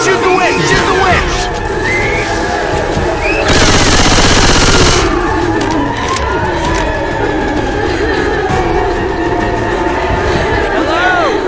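Gunfire aimed at the Witch in the zombie shooter Left 4 Dead 2, heavy rapid bursts of shots blending with loud game noise, with a dense, harsh volley in the middle.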